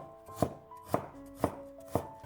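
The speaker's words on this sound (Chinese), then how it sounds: "半块生姜先切成姜片，再改刀切成细丝。" A knife slicing ginger into thin slices and strips on a cutting board, four crisp, evenly spaced chops with faint background tones, quiet and close.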